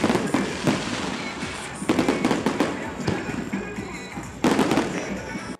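Fireworks burst over Abidjan at year-end festivities: repeated loud booms and crackling volleys in irregular clusters, dense and continuous with crowd noise beneath, several sharp peaks standing out near the start, middle and end.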